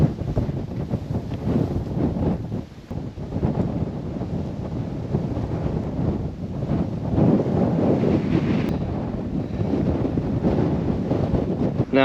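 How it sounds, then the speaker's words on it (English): Strong wind batters the microphone on top of Gros Morne Mountain, gusting and buffeting in loud, uneven blasts with a brief lull early on and no voices. "bombarded by wind"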